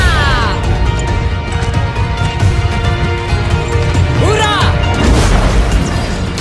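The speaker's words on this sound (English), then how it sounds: "Upon impact, this bomb creates a pulsing area of denial that pushes away enemies" Zarya's Expulsion Zone bomb landing in Heroes of the Storm, a loud crashing impact burst amid layered game effects and whooshing sweeps.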